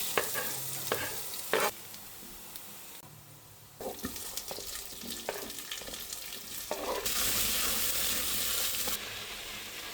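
Garlic and onion frying in olive oil as the base of a Moroccan fish curry, a steady close sizzle broken by stirring scrapes and brief clatter, with no one talking.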